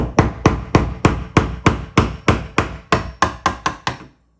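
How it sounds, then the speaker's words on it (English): A hammer taps in a quick, steady rhythm, about fifteen sharp metallic strikes close by on a door hinge pin to break the paint, then the sound stops abruptly. "as I'm hammering, holding this down at an angle, a steeper and steeper angle as I go"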